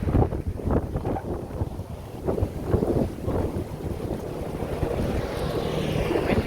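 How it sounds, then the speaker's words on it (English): Steady wind buffeting the microphone outdoors on Main Street in Camp Verde, Arizona, a continuous low rumble with gusty surges throughout, no voices. "Windy, but it feels nice"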